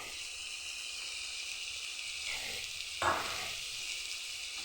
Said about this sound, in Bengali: এখন মশলাটাকে ভেজে নেব।